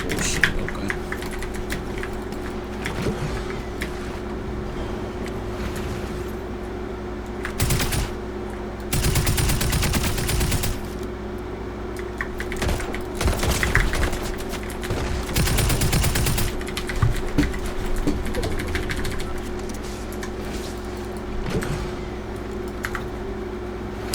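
Rapid automatic gunfire from a newly added gun in a video game, several loud bursts of a few seconds each separated by quieter stretches, with a steady background hum and faint keyboard clatter.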